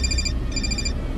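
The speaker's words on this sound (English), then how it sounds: "I just answered my phone." A mobile phone rings with a repeating electronic ringtone in two bursts over a low, busy background rumble, close and fairly loud, with no speech.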